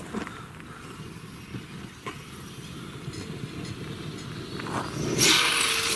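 An Arrma Kraton 8S RC car is driven hard at full throttle outdoors, its electric drive giving a steady whirring rush that builds and grows louder toward the end.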